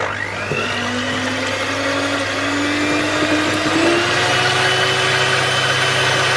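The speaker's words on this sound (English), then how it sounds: "we're going to whisk this till we get white peaks" An electric mixer whisks egg whites to white peaks for a red velvet cake, a steady loud motor whine that holds continuously with a slight pitch shift, no talking over it.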